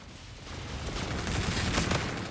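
Rapid bursts of gunfire from a gun in the shooter game Infinite Warfare, a dense sustained volley of shots at steady loudness throughout, with no talking.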